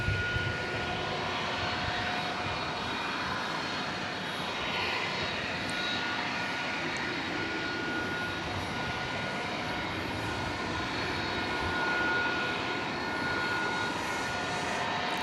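Steady roar of airplane engines at DFW Airport at night, a continuous broad rumble holding across the whole stretch without a break, moderately loud and somewhat distant, with no talking.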